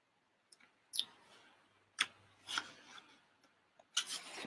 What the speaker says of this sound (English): Turning the page.